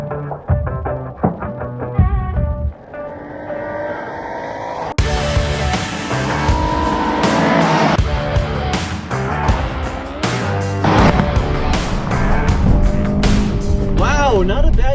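A Honda Pilot and an Acura MDX launch side by side in a drag race, with engines droning and revving hard as they accelerate from a standstill, loud and continuous, under excited commentary.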